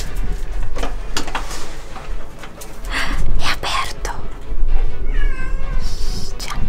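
A cat meows a few times amid game sounds, with faint whispery talk and other background noise in a Hello Neighbor gameplay setting.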